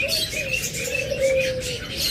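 An opaline Forpus parrotlet pair, a male opaline and a female violet, gives thin, high chirps and a sustained whistled tone up close against a hissy background.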